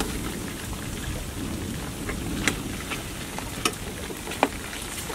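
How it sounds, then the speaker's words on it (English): Chicken drumsticks fry in hot oil with a steady, dense sizzle and occasional sharp pops, close by and moderately loud, with no voices over it. "Yeah, I want to take it one time to fry."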